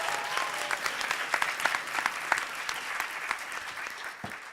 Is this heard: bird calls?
no